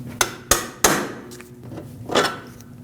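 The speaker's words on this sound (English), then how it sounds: "we'll punch this bolt out" Three sharp metallic hammer blows ring out close by as a bolt is punched out of a Lexus IS250 rear knuckle, followed by a softer scraping knock.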